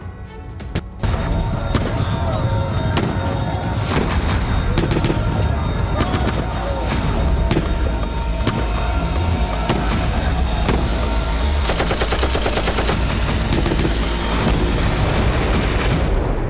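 Footage of a Ukrainian strike with JDAM-kitted bombs, including 1000 kg Mark 84 bombs, on a Russian army position in Kursk: a dense barrage of sharp blasts and cracks, steady and loud throughout, under a voice speaking.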